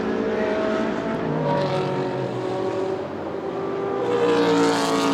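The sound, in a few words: Ferrari GT race car engine driving through at Spa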